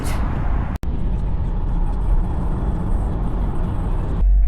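A hire car drives along UK roads, heard as a steady, close interior rumble of engine and road noise that drops out for a split second near the start and then runs on without talk.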